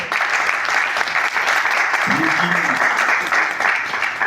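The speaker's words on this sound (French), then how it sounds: "L'on applaudisse très fort pour Caprice Dicom et pour cette année" An audience at a press conference applauds for Caprice Diconn, sustained clapping heard close and steady for several seconds, with a brief voice rising in the middle.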